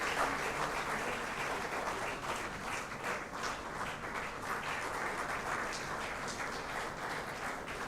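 Sustained audience applause at a Day of the Seafarer award ceremony, with steady, dense clapping filling the room and holding an even level throughout.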